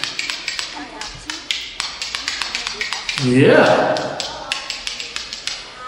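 Spoons played as a Métis folk instrument rattle out a quick, rhythmic clacking onstage at a lively quiz show, sharp and close. Midway a voice briefly calls out over the beat.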